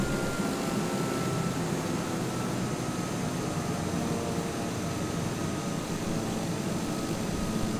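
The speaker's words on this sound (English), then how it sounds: "Put the gear down and put a notch of flap down." Steady, loud drone of a TBM 930 single-engine turboprop in flight on the downwind leg for landing, a continuous cabin hum with no distinct gear or flap mechanism sounds standing out.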